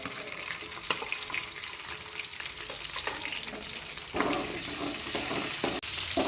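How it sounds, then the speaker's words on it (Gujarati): Chopped chillies and asafoetida fry in hot oil for Maggi masala rice, giving a steady, close, continuous sizzle with a few sharper crackles and a louder surge near the end, with no talking. "સૌપ્રથમ તો તેલ મૂકી દીધું છે. તેલ આવી ગયું છે. તેની અંદર થોડી હિંગ ઉમેરી દઈશું. ત્યારબાદ તેમાં કાપેલા મરચાં,"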